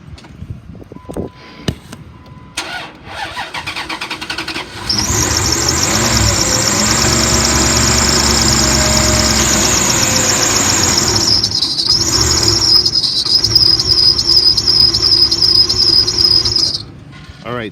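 A 2002 Dodge Ram 3500 utility truck engine with the AC on and a bad pulley runs loud and close, a steady rumble topped by a shrill, constant squeal, before it is shut off.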